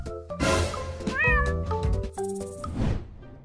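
A cat meows several times, loud and close, with a rising, wavering call in the middle of a busy, noisy scene.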